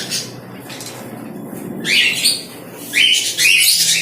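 Caged breeding birds at a bird market chirp and tweet in bright bursts, a few short calls early, then louder, busier twittering in the second half, close by.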